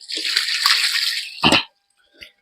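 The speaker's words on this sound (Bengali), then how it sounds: "এই যে দাঁড়াও জল ফেলায় দেখাচ্ছি" Water is poured off freshly caught ditch fish in a steady splashing rush for about a second and a half, followed by a short louder slosh and one faint final splash after a pause.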